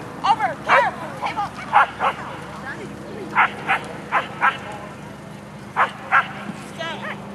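A dog gives a string of short, sharp yips and barks in irregular clusters, fairly close and loud, over a steady low background hum.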